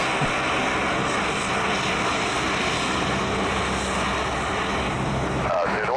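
A propeller-driven light aircraft engine drones steadily and loudly near a runway, a continuous broadband roar holding through the whole stretch, with voices talking over it.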